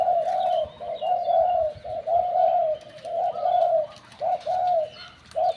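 Deep, resonant dove coos repeat in steady phrases, close and clear, with short pauses between each call and no talking.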